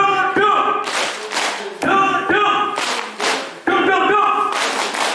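An audience of parents and children claps on their thighs in a clapping game, with three loud bursts of group slapping, each following a man's spoken cue.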